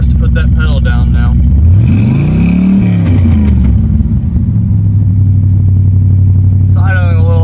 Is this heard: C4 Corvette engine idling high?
yes